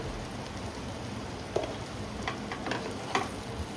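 Pointed gourd and soybean with turmeric are stirred in a pan over a soft frying hiss, with a few faint spoon scrapes and taps. No one speaks.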